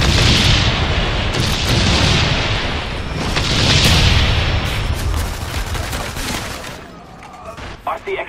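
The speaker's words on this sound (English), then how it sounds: "Friendly carpet bomb on the way." A carpet bomb strike in Call of Duty: Black Ops multiplayer lands as a loud, continuous rumble of overlapping explosions and booms that swells and fades, with some scattered gunfire mixed in.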